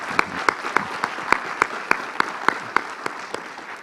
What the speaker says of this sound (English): I think we should give the moderator a huge applause as well.